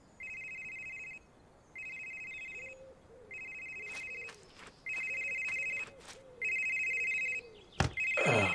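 In the video game Someday You'll Return, a cell phone rings with repeated electronic trills about a second long, separated by short pauses. A low hum continues under the ringing, and a sharp noise cuts in at the end.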